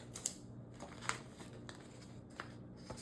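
Scissors cut planner stickers in half at close range, with a few faint, crisp snips spaced across a quiet indoor background.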